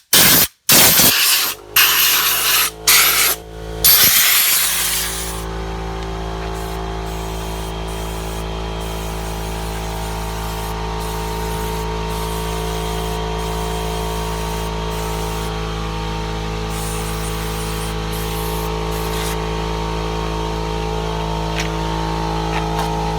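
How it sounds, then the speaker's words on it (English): Bursts of compressed air and brake cleaner hiss sharply onto a 2011 Toyota Highlander brake in several short blasts. A steady mechanical hum then continues alone. "I'm gonna blow this out with compressed air, clean it with some brake cleaner"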